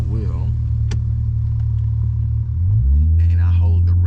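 A Cadillac ATS-V engine held in manual mode rumbles deep and loud, then climbs in pitch as the revs rise, heard close up from inside the car.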